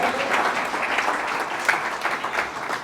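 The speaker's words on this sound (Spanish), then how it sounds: "Si va a aplaudir, aplaudan esta mañana." Church congregation applauding during a Spanish-language Christian sermon, a steady wash of many hands clapping at moderate loudness throughout, with faint voices mixed in.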